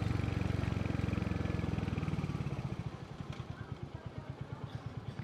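A Royal Enfield motorcycle thumps along city streets at night, its single-cylinder beat rapid and full at first, then slowing into distinct, evenly spaced pulses as it eases off, close and alone.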